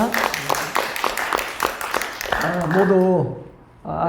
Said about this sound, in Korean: 우리 모두 하나님의 영광의 박수 올려드립니다.